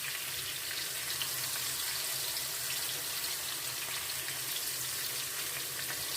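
Garlic frying gently in oil with hot pepper in a pan for an eggplant salad, a soft, even, continuous sizzle heard up close and fairly quiet, with no talking.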